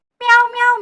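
A single short, close cat meow, bright and clear, rising then trailing off, heard alone.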